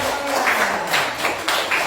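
Children clap their hands in a classroom, giving a short burst of dense, overlapping claps that comes in a few quick waves at close range.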